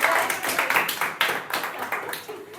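Scattered hand clapping from a group of students in a classroom, a few uneven bursts of claps that rise and fade over a couple of seconds.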